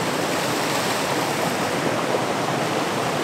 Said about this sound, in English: first shot of this waterfall, ferns, right up close and personal with it